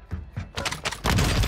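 Gunshots in a shooter video game: a few sharp separate cracks at first, then a louder, denser burst of rapid fire that carries through to the end.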